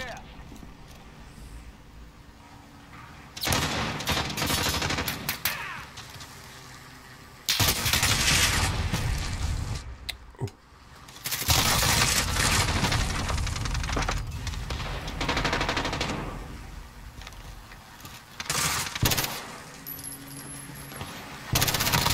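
Repeated bursts of MP7 submachine gun fire in Call of Duty: Modern Warfare on the Rust map, loud sustained volleys separated by brief pauses, mixed with game effects and talk.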